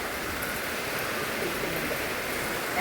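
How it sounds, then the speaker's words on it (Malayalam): Heavy rain pours in a constant broadband hiss, close and unbroken, with no voices over it. "നല്ല മഴയാണ്"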